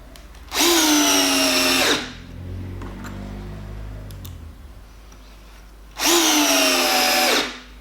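A Bosch Professional 12V impact driver drives 50 mm chipboard screws in two loud, close whining runs of about a second and a half each, with a quiet pause between them.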